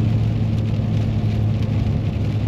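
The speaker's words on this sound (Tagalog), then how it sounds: "Ayan, malakas ang ulan." Heavy rain pours steadily, a dense continuous hiss with a low rumble beneath, close and loud throughout.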